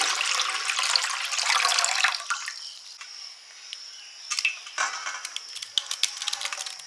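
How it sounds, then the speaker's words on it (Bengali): Misri sugar-candy water is poured through a kitchen sieve, a close, splashy trickle of liquid that thins out into scattered drips and small taps toward the end. "মিছরির জলটা আমি ছাঁকনিতে ছিঁকে নিচ্ছি"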